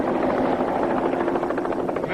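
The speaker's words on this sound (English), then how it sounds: "It's a helicopter, Kyle." Rescue helicopter overhead, its rotor a loud, continuous thudding beat with steady engine roar throughout a short burst, no voices.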